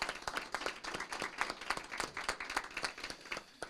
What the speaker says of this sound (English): If we could give them another big round of applause, please.